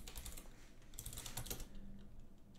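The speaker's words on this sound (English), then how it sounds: "Now you have to type your password." A password is typed on a computer keyboard into a PowerShell terminal as a quick, soft run of key clicks with no talking, faint and close.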